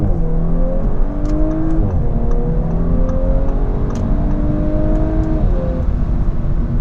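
An Audi S5 Sportback accelerates hard while merging onto a straight road, its engine loud and close, pitch climbing through gears with a brief dip at each shift.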